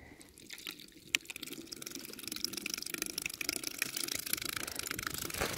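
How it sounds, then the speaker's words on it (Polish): Steady rushing water hiss spreading across the whole clip, growing slightly louder after a sharp click early on, with no talking. "Zobaczcie, ile wody."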